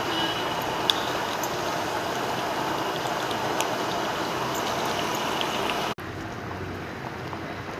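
A pot of mixed-lentil sambar with turmeric and salt bubbles steadily at a close, even simmer. The texture is a continuous hiss with no voices.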